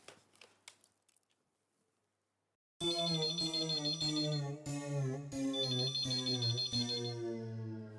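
An intercom telephone rings in an office, loud repeated electronic trilling bursts in a regular pattern, starting after a short stretch of faint sound and near silence.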